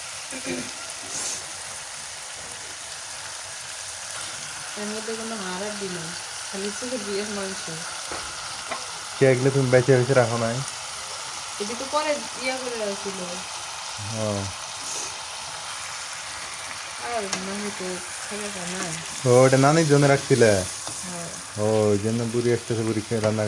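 Meat frying in a pan with cooked-down spices for a Bengali curry, a continuous loud sizzle and stirring clatter that runs under intermittent conversation between people.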